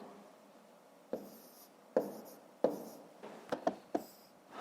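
Numbers being written by hand during a fifth-grade maths exercise, pen or chalk strokes coming as a handful of separate scratchy bursts with short quiet gaps between them, close by and alone with no talk.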